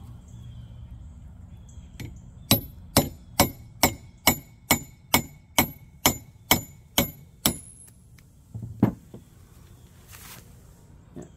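A quarter-inch steel grade 2 bolt is struck repeatedly by a knife blade being tested for edge toughness, giving about twelve loud, evenly spaced metallic clacks, then a final heavier hit as the cut finishes.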